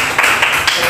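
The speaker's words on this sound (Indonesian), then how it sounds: "Tepuk tangan sekali lagi buat kita semua doang" A class of students claps hands together, a brief burst of several quick, fairly loud claps in loose rhythm over a noisy room.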